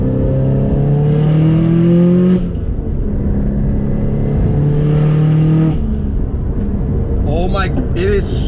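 A 500-horsepower Subaru STI accelerates hard on a road, its engine pitch climbing steadily through gears in loud sustained pulls heard from inside the car, with brief shift breaks and a person talking over the engine.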